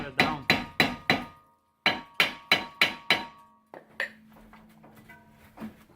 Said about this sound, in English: Now we have to hammer it down.